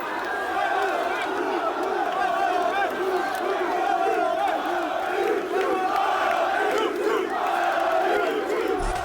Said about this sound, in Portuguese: a torcida já foi às ruas, foi fazer festa e tudo mais